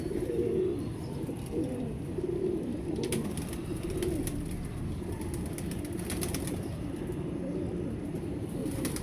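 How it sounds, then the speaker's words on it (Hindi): Genuine Indian pigeons coo close by in a steady series of low, soft, rolling calls, with an occasional brief flutter of wings and no voices. "ये देखें दोस्तों जेन्युइन इंडियन कबूतर है।"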